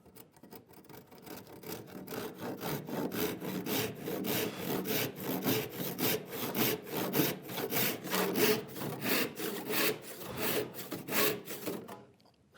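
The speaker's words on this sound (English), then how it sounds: "Cross-cut saw." A cross-cut handsaw rips through plywood for a workbench in steady, rhythmic back-and-forth strokes, close and clear for about twelve seconds before stopping.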